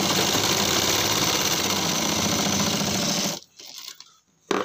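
A sewing machine runs steadily and loudly while stitching a pocket onto a pajama, stopping abruptly after about three seconds, followed by a few faint handling sounds and a brief final burst.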